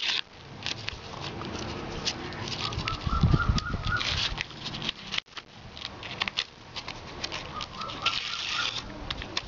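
A chicken being handled clucks in short bursts amid rustling and fluttering, with a few clearer calls partway through, close and moderately loud over a busy background.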